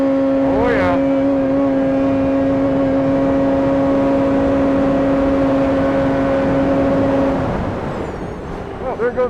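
A 2025 Polaris Indy 9R XCR 136 snowmobile engine runs loud and close at a steady high idle with strong sustained tones, then cuts off near the end, leaving a brief rustle.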